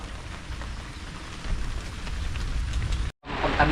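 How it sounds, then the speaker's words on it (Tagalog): Heavy rain pours steadily at dusk in a rural Philippine field, a dense, loud, continuous hiss with a brief dropout near the end. "Malakas na yung ulan."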